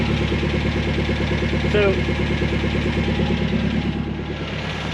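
An MGB car engine runs steadily at a fast idle, up close and loud, with a rhythmic throb and a brief spoken word over it.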